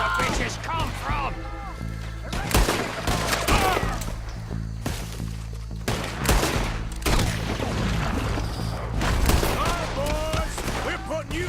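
Rapid, loud bursts of gunfire from the Red Dead Redemption 2 shootout come in dense volleys with short pauses between them, and a voice talks over parts of the fight.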